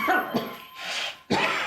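A person coughs three times in quick, harsh bursts, close and loud with short gaps between them, like someone with a lingering cold or suspected tuberculosis.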